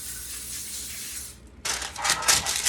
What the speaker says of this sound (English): So I'm gonna spray down the parchment paper.